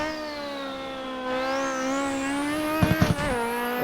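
A Zakspeed Capri Group 5 race car in the Assetto Corsa video game revs with a loud, rising engine whine as it accelerates, then a brief burst of rough crackles before the tone drops on a shift.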